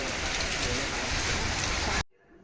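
Steady, dense rain pours down loud and close for about two seconds in a Gujarati family setting, then cuts off abruptly into near silence.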